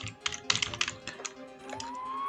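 Rapid typing on a computer keyboard, a quick run of close, distinct keystrokes in irregular bursts with no talking, followed by a faint rising whine near the end.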